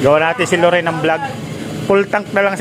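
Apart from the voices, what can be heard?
No everyday noise stands out behind the speech.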